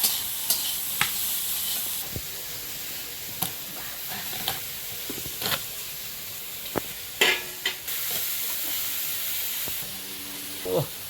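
Shrimp dropped into hot oil with dried chili, chopped onion and garlic, crackling and hissing loudly and continuously, with occasional scrapes and knocks of a spatula stirring the pan, set in an outdoor Sundarban kitchen.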